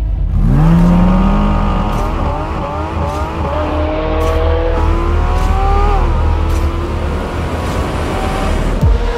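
A Porsche 718 Cayman GT4 RS with a 500-horsepower GT3-derived engine revving up to 9,000 RPM, loud and close, rising through gears with sustained high-pitched wails and brief shift breaks, running continuously for about nine seconds.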